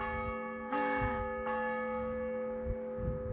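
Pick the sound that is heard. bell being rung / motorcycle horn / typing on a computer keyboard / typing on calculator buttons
bell being rung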